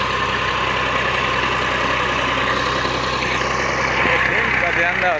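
A tractor engine idles loudly and near, a dense, even rumble that holds steady throughout with no one speaking, while the tractor is stuck.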